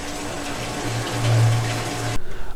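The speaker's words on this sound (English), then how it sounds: "A switch located behind the rig is turned on to power on the pump, and then the valve is used to bring flow into the nozzle" Pump in a jet impact lab rig driving water through a nozzle onto a plate: a steady rushing flow with a low hum that swells in the middle, then cuts to quieter splashing near the end.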